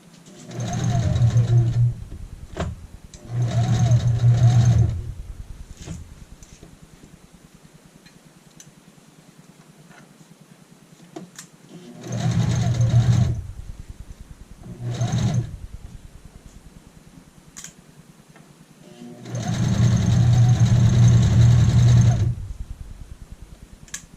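A sewing machine stitches a waistband onto a skirt in four separate bursts, each a few seconds of rapid, even whirring, with quiet pauses between them and no voices.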